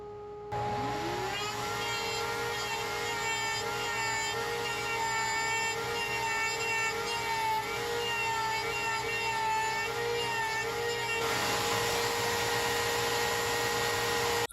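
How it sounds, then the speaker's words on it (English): A router table motor spins up and keeps up a steady, high-pitched whine while it cuts notches into a table saw insert. The sound is loud, continuous and close, with no talking. "We're gonna go ahead and get our distance for the router table"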